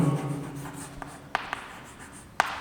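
Writing on a board during a class 8 lesson, a soft continuous scratching of strokes broken by a few sharp taps, close and alone with a faint voice at the very start.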